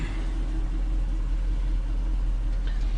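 A Chevrolet Alpha SUV fitted with an all-aluminum 5.3 LS V8 (LH8) with 181,000 miles idles steadily, a low continuous engine rumble with no talking.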